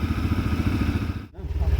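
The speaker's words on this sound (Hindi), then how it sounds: "यहाँ पे स्कूटी और बाइक स्टार्ट करते हैं" A scooter and a motorbike idling on a road, a close, loud, throbbing engine putter with a short break and then a restart, with voices nearby.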